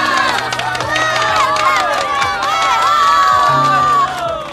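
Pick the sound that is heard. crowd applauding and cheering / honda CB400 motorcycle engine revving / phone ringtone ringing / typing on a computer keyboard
crowd applauding and cheering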